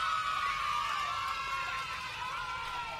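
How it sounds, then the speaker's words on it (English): Audience cheering and applause on a kids' show after a guest AFL player's Q&A, a steady, bright wash of whoops and excited shouts held at an even level for a few seconds. "Let's give Josh a big round of applause for braving the Squiz Kids hot seat."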